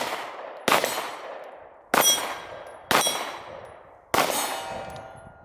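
An RM1C pistol fires four loud, sharp shots, each ringing against steel targets with a bright clang that decays over about a second, spaced roughly a second apart. No one talks.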